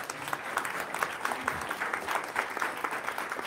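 An audience applauding at a Providence, Rhode Island mayoral forum hosted by the Jewelry District Association, with a sustained, moderately loud burst of clapping from a modest crowd.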